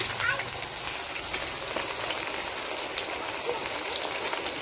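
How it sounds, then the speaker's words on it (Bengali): Chopped onion dropped into hot oil with whole garam masala and cumin gives a steady, close, crackling sizzle that holds an even level throughout with no voices. "এখন দিয়ে দেব কুচি করা পেঁয়াজ।"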